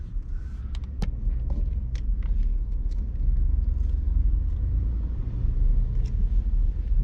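A vehicle driving slowly through an RV campground at Lathrop State Park near Walsenburg, Colorado, producing a steady low rumble with a few faint clicks and taps over it.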